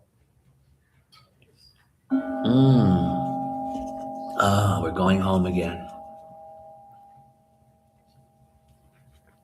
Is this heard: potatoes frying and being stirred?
no